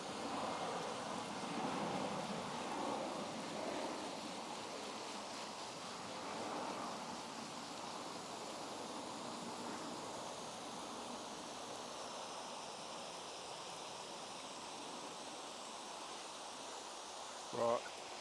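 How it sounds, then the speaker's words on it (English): Water sprays steadily from a hose or can onto garden beetroot plants, a soft continuous hiss with gentle surges that lasts throughout. "So I'm giving these a good watering."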